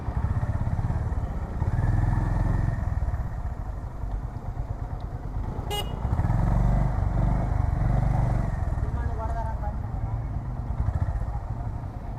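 A Honda motorcycle engine runs while riding, a close steady low rumble with shifts in pitch as the throttle changes and traffic noise around it.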